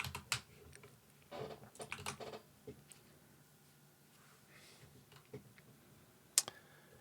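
Computer keyboard typing during assembly coding, delivered in short irregular bursts of soft clicks with pauses between them and one sharper key hit near the end, close and quiet with no speech.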